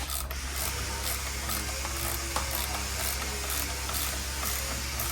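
Ratchet wrench backing bolts off the oil cooler of a 2017 Harley-Davidson Street Glide with an M8 engine, a steady run of fine clicking with a faint hiss under it, close and moderately loud throughout.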